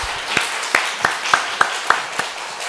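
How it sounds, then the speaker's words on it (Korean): A Korean church congregation applauds in worship, with sharp clapping in regular unison beats, roughly three per second, standing out over a softer bed of scattered applause. "하나님께 영광의 박수 돌려주겠습니다."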